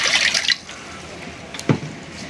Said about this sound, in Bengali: একটু পানি দিয়ে দিই।